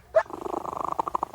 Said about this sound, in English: That's a happy cat.